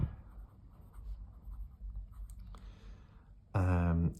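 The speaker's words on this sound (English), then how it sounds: "TWSBI Classic Fountain Pen in white with a broad nib" Broad-nib TWSBI Classic fountain pen in white, filled with Lamy Crystal Agate ink, scratching across paper in soft, continuous strokes close up, with a brief louder tonal sound near the end.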